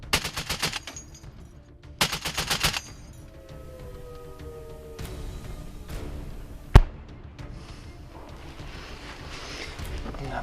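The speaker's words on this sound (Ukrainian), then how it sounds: "Постріл, постріл. Плюс постріл." Bursts of rapid automatic gunfire at a front-line combat position, two loud volleys early, then scattered distant shots and one sharp close blast, with wind noise between.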